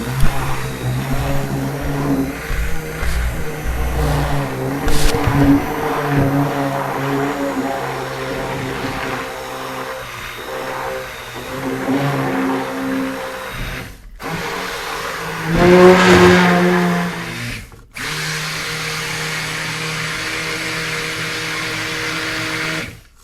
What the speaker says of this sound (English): I'm just going to go start with a slow and just start mixing it up